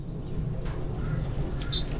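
Finches in a home aviary give faint, high, scattered chirps and tweets over a low background rumble, a few brighter calls clustering toward the end.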